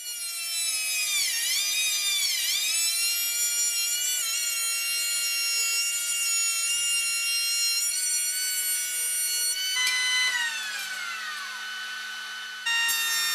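A jointer planes rough cherry and maple boards flat, a loud steady high-pitched machine whine with tonal shifts as the cutter bites the wood, continuing close and unbroken with no voices.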